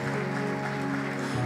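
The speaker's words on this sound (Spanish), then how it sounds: "Honrale con tu mejor aplauso." Congregation applause at a Spanish-language church general meeting, a dense steady wash of clapping held throughout under sustained music.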